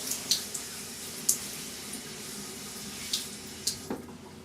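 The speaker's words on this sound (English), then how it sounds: "I'm going to put some water on my head" Tap water running and splashing while wetting a head before a shave, a steady faucet hiss with occasional sharper splashes and drips, close and without speech.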